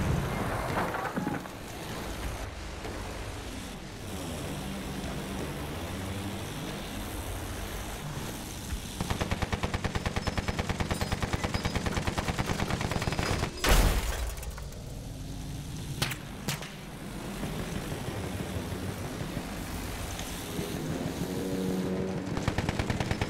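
Anti-aircraft gun firing in a first-person military shooter video game, a steady stream of loud rapid shots running through most of the passage with a sharp louder blast midway, no talking over it.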